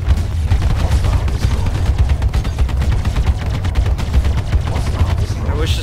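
Spaceship missiles fire in a rapid, continuous barrage in the space combat game Star Citizen, a loud dense rattle of repeated booming shots with no pause.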